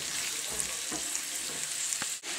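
Chicken thighs and leeks sauté in a pan, giving a steady soft sizzle with a few small pops and stirring clicks, close and fairly quiet.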